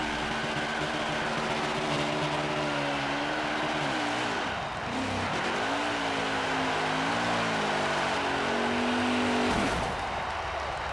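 Loud, sustained engine roar from a NASCAR Heat 5 stock car during a burnout, the pitch surging and sagging repeatedly with tire scrub underneath, briefly cutting out midway and again near the end.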